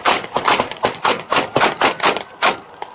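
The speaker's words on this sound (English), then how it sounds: "Shots fired! Shots fired!" A string of loud, close gunshots fired during a police confrontation with a homicide suspect trying to escape, about ten sharp bangs in quick irregular succession.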